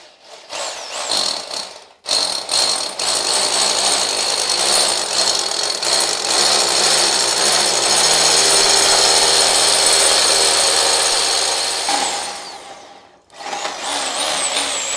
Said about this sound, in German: Nach rechts bohren